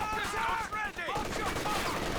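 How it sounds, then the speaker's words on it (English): Gunfire and rifle grenade blasts in Company of Heroes 2, a steady clatter of shots with bursts through the whole stretch, and a voice talking over the battle. "now those rifle nades are starting to stack up"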